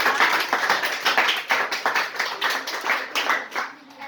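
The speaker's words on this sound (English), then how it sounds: "please clap." An audience at an indoor kitchen contest show claps together, a dense run of rhythmic hand claps at fairly close range that keeps going for several seconds before thinning out toward the end.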